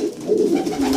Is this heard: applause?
no